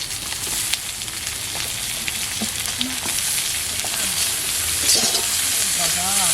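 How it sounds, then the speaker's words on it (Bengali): Onions and ridge gourd sizzle steadily in hot oil in a pan while fish curry is being cooked, a dense close frying hiss with occasional soft clinks and faint voices under it. "এবার পেঁয়াজগুলোকে ভেজে নিচ্ছি"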